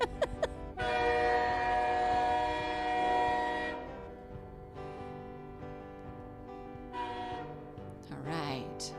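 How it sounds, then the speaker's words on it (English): A train whistle sounds loud and sustained, then fades and returns in a shorter second blast, with a rumbling train underneath. "That is a train whistle."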